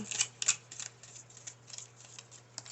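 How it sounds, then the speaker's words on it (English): Tarot-style pick-a-card deck shuffled over a table, giving soft riffling and flicking bursts with a few sharper snaps, close and fairly quiet over a steady low hum, with no talking. "So I've got to shuffle them over the table"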